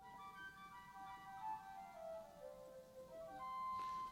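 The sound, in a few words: Austin pipe organ flute stop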